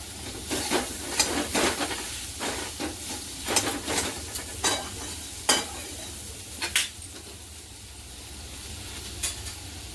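A spatula mashes and stirs pav bhaji vegetables in a hot pan, with repeated sharp scraping and tapping strokes against the metal over a constant low sizzle, close and unaccompanied by speech.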